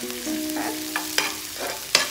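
Tilapia fillet cooks in a pan with oyster sauce, fish sauce, white sugar and tomato. It sizzles at close range, with a few sharp scrapes and taps of a utensil and a faint steady hum underneath.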